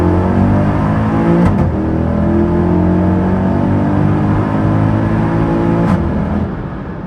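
A 2011 Mercedes-AMG E63 W212 drives with a loud, steady engine drone, rising slightly in revs and easing off near the end, with no talking.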